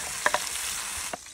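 Onions and diced lamb sizzle in a pan, with a few quick stirring scrapes over a steady, close frying hiss and no talking.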